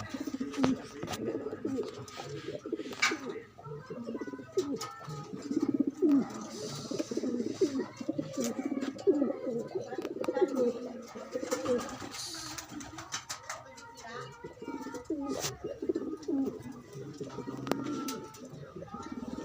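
Pigeons coo in a series of soft, low, repeated calls close by, with other faint bird chirps and quiet voices talking in the background.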